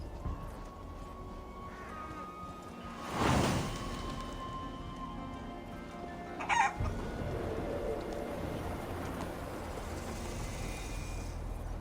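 Chickens in Assassin's Creed Valhalla, in a village where livestock wanders across the road, cluck and crow in short bursts over steady ambient game background, with one louder call near the start and a brief sharper cry later.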